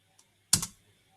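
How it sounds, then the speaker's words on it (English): Two keystrokes on a computer keyboard while typing a command in an Ubuntu terminal, a faint tap followed by a louder, close clack, isolated in quiet. "Type Y and then hit enter."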